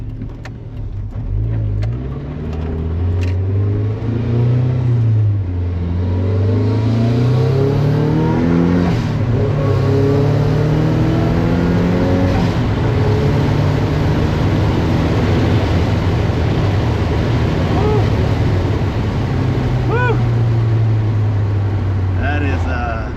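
A turbocharged 1997 Mazda Miata accelerating, its engine rising and falling through loud revving sweeps up close, with a voice talking over the engine at times.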